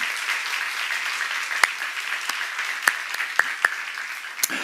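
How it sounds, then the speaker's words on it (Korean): A church congregation applauds at a Bible seminar, a steady wash of clapping with a few sharp, louder claps standing out, sustained for several seconds. "하나님께 박수 한번 쳐가"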